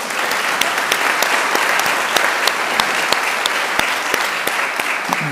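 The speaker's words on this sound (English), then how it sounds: "A big round of applause to the docents" A museum audience greets the docents with a round of applause, dense sustained clapping from many hands, steady and fairly loud throughout with no voices rising above it.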